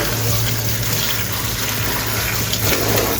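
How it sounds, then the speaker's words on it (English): Tap water runs hard and steadily into a kitchen sink as it is washed out after cooking chicken, a loud, continuous gushing splash with no pauses. "so now I'm gonna wash my sink."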